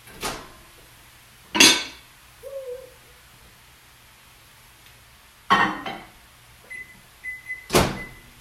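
A lid clatters onto a pot of chicken broth and the pot goes into a microwave. Sharp knocks and clunks are spaced apart, with a short run of electronic beeps near the end, and no talking.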